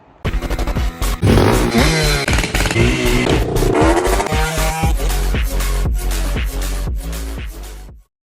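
A Honda Express 2 moped with a big bore engine starts up and runs close by, revving with rising and falling pitch and a clattery buzz for several seconds before cutting off abruptly.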